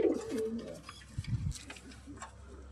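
Pet teddy pigeons give a few soft, low coos close by, partly under a person talking.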